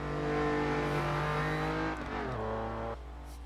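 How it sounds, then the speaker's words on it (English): A Lamborghini Countach in the Assetto Corsa racing game. Its engine drones loud and steady with rising harmonics, then gear changes drop the pitch in steps, with a crackling exhaust under deceleration. No one speaks. "The poppity pop of the exhaust"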